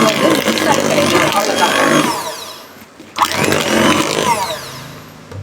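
An electric hand beater whirs loudly and continuously while mixing vanilla sponge cake batter, a buzzing motor tone that briefly dips before resuming at full strength.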